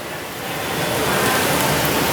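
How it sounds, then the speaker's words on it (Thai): Heavy rain falls on a Bangkok street near the Pathumwan intersection by the Siam BTS skytrain station, a steady dense hiss that swells slightly and fills the whole stretch with no voices. "บรรยากาศฝนตกเปียกง่อมเลยพี่น้อง"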